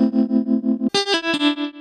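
A sustained, distorted synth-like tone pulses rhythmically through an effects pedal recreated in VCV Rack, then abruptly shifts to a choppier, sharper square-wave LFO modulation pattern; loud and close, no voices.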